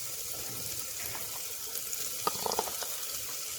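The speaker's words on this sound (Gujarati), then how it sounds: "પૌવાને આપણે 2 થી 3 પાણીથી ધોઈ" Poha (flattened rice) being rinsed in water in a kitchen, with a faint, steady watery wash and a few soft splashes and clinks near the end, fairly quiet throughout.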